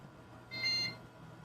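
A Compaq computer gives a single short, thin electronic beep while a setup disk loads, fairly faint over a low room hum.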